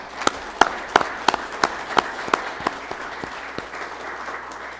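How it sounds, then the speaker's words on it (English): Applause at a regular city council meeting: a small group claps in loose rhythmic bursts that gradually thin out and fade, moderately close in a room. "let's give them a big round of applause one more time."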